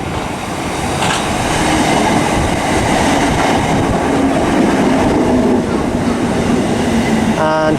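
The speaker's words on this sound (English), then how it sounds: "next train to arrive is the 1213 Southwestern Railway service from Woking to London Waterloo" A South Western Railway class 455 electric multiple unit pulls into Weybridge station on the South West Main Line, loud and close, with a continuous rolling rumble, clattering wheels and a brief squeal at the end.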